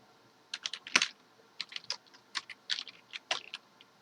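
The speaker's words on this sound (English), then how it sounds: "Alright, so I'm going to type in the password." Password entered on a computer keyboard: about a dozen quick, quiet key clicks in short irregular bursts, close by and heard alone in a quiet room.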